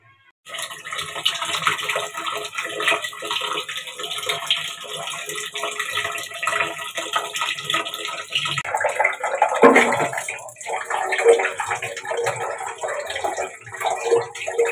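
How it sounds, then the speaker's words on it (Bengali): A kitchen tap runs steadily while rice is washed, a continuous splashing gush of water close by, with a rougher, churning stretch later on as the grains are stirred and rinsed. "চাল ধোবো"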